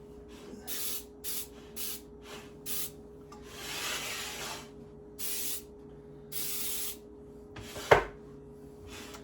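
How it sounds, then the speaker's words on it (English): Baker's Joy baking spray greasing a cake pan for a cherry pie cake, heard as several short close hissing bursts with pauses between them, followed by a longer spray and a sharp clatter near the end. "And I gotta grease the pan. I use Baker's Joy"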